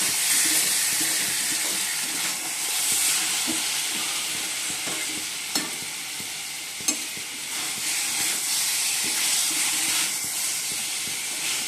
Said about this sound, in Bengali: আর এদিকে চিকেনটা কষে নিচ্ছি।